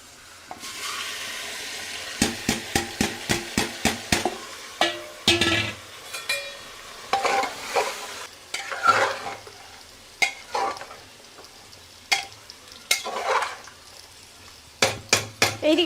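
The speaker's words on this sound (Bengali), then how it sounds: "পেঁয়াজটা হয়ে গেছে মানে কিছুটা বেরেস্তা মতো হবে আর কিছুটা কাঁচা থাকবে তার মধ্যে মাংসটা দিয়ে দেবো" Meat is added to onions frying in oil in a pan, bringing a soft sizzle beneath repeated sharp clanks and scrapes of a spatula stirring against the metal, in irregular bursts of close, crisp strikes.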